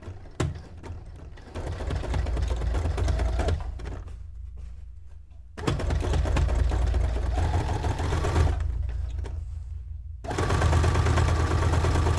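A sewing machine stitching down a folded loop patch on a miniature townscape cone-shaped cape dress, running loud and close in three long stretches, each broken by a brief quieter gap.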